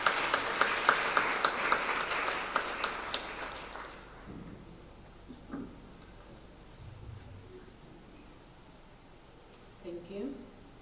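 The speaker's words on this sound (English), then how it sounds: "Ndicela simnike a warm round of applause." A crowd applauds with dense, rapid clapping for about four seconds, then it dies away into quiet room noise with a few faint sounds.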